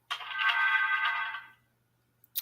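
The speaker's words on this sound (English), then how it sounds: "I don't know why my phone is um, messaging like that." A phone's message notification plays a single bright, sustained electronic tone lasting about a second and a half, then two brief clicks follow in near silence.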